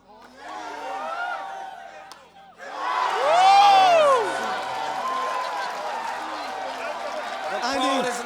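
Spectators cheer and whoop at the 2014 North West Foundation Monarchs of the Courts men's squash final, swelling loudly after a brief lull and holding a steady roar, with a voice talking over it.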